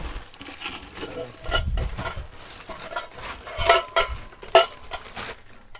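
A kitchen storage container's lid pressed and snapped tightly shut, a close series of irregular plastic clicks, knocks and light clinks, with a few sharper snaps near the end.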